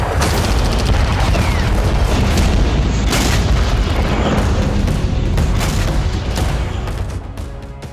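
Explosions from an attack on Crimea rumble in a dense, loud barrage of booms and blasts, with sustained low roar and repeated sharp impacts that fade slightly at the end.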